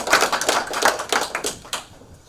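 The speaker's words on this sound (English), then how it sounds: "Another round of applause, please." Applause from a graduation ceremony audience at North Metro Health Institute: a steady run of close, crisp hand claps that thins out and fades after about two seconds, with no talking.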